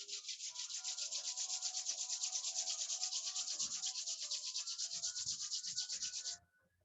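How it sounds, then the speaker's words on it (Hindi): Two palms rub together rapidly, a fast rhythmic swishing friction that holds steady for about six seconds before stopping abruptly, close and fairly quiet with nothing else over it. "दोनों पाम्स को तेजी से रब करें।"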